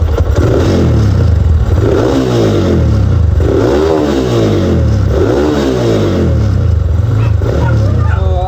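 Yamaha motorcycle engine on its stock CDI, revved repeatedly in loud, close bursts that rise and fall in a steady cycle over a continuous idle, with no talking.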